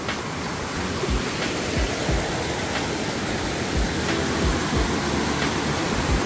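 A small waterfall in a mountain valley stream near Paju pours with a constant, broadband rushing roar, heard close and steady, with scattered splashes and no voices.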